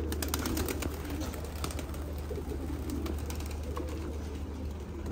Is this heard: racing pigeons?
yes